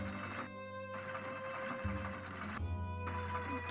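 A sewing machine in the Nancy Drew video game Secret of the Old Clock runs in two short mechanical bursts, a rapid stitching whir over a steady background hum.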